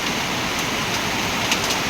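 Hail pelting a roof during a rainstorm, a dense steady roar of countless small ice impacts, loud and continuous, with no voices.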